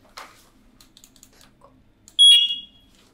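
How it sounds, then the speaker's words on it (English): A firefighter's air pack low-air alarm emits a short, sharp high-pitched electronic chirp after faint clicks and handling noise, close and alone. "I'll just set vibratory alarm for low air"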